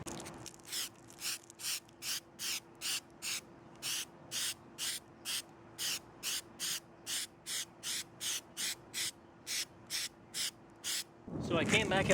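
Short bursts of flexible sealer sprayed from an aerosol can onto a small patch of roof hiss in a steady rhythm, about two per second, up close, with a faint background hum.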